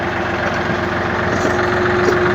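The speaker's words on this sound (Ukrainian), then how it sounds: "Заводимо трактор" A tractor engine idles steadily with a constant low rumble and droning hum throughout, close and loud, with no talk over it.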